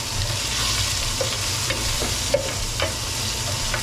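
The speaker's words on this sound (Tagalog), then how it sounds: "Kahit may sabaw siya, gilisa ko sa bawang at luya." Pompano fish sautés with garlic and ginger in a hot pan, producing a steady close sizzle with a few soft stirring clicks and scrapes, with no talking.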